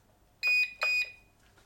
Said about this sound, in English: You will hear 2 beeps.